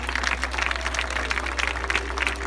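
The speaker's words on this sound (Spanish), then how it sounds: "Un aplauso para eles tamén" School audience welcoming visitors at Vista Alegre School claps in a brief, moderate burst of applause, steady patter over a low hum with no talk.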